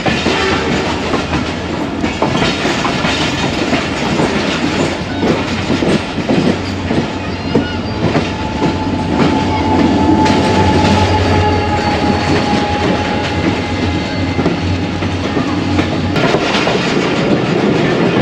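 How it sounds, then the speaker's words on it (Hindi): A light locomotive passes close on railway track in Pakistan, a loud continuous rumble of wheels and engine with steady clickety-clack over the rails, holding strong throughout without talk. "एक लाइट लोकोमोटिव आ रहा है"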